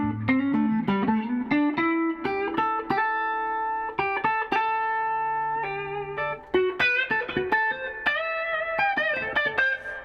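An electric guitar played through a Fender Princeton Reverb tube amp with 6V6 tubes and a 10-inch speaker, a clean, sustained melodic line of picked notes, steady and close, with no voices.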